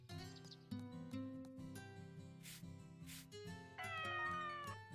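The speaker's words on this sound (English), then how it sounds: "Meow." A cat meows in the Story of Seasons: Pioneers of Olive Town farming video game, several clear, high cries over the game's background music.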